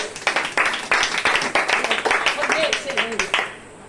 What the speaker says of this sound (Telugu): సరిగ్గా చప్పట్లు కొట్టండి దేవుడికి